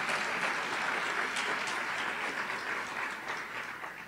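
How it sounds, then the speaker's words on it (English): Banquet audience applauds Gary Pollock at the Sandusky County Positive People event, a dense, steady wash of clapping hands that stays loud through the whole stretch. "So I'd like to give Gary a big round of applause."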